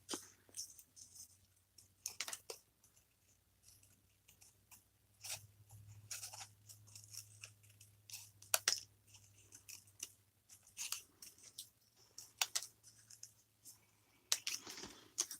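Scissors snip through paper roses in short, quiet, crisp bursts with gaps between cuts, close and with no talk.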